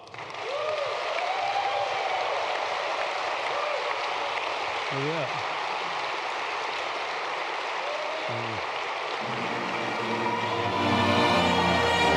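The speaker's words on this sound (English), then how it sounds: "Please signify by a round of applause for Kuan Yew." Delegates at a Kiwanis International convention clap together in a large hall, a broad continuous wash of applause heard at a distance, while a few brief tonal sounds and a voice rise over it partway through.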